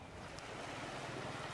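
Sea waves washing onto the shore of Koh Bulon island in Thailand at night, a soft steady surf wash with wind, faint and distant-sounding, without voices.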